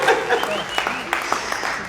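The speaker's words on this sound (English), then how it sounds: "Give yourselves a round of applause" An audience at an awards ceremony for the Gary International Black Film Festival 2024 claps steadily, a dense, broad wash of hands that stays fairly even and fills the room.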